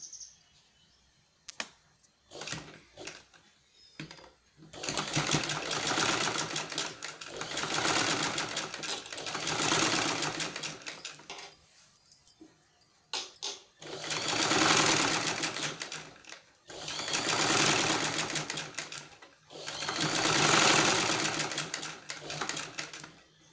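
A sewing machine stitching shoulder seams of a garment, running in several long bursts with brief pauses between, steady and fairly close.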